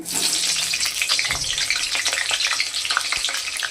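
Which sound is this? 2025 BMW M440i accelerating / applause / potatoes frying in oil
potatoes frying in oil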